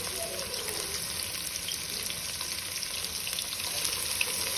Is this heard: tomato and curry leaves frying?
yes